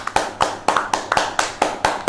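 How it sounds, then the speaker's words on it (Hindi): Scattered hand claps of roughly nine or ten separate sharp strikes at an online public speaking competition's result announcement, rhythmic and fairly close, with no talk over them. "तो जोरदार तालियां हो जाए"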